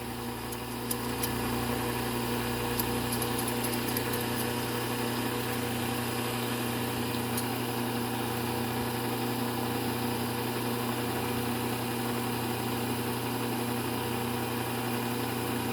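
Powered sharpener grinding the blades of scissors or pinking shears, a steady continuous motor whine with a constant hum and a few faint ticks of contact, close and alone.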